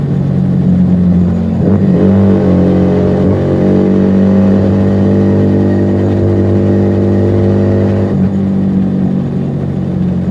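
Loud, close Mavionic aftermarket exhaust on a Keeway SCR 250V motorcycle drones steadily at high revs, the throttle blipped briefly, with a thick, throaty rumble throughout.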